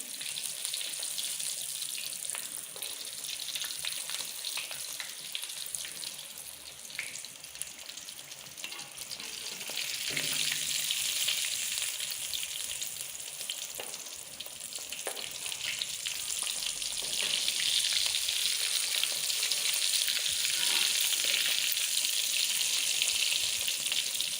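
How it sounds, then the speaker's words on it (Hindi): Samosas deep-fry in oil over low heat in a home kitchen, giving a steady, dense sizzle and bubbling hiss that swells slightly louder partway through, with no voices. "धीमी आंच पर इनको तल लें"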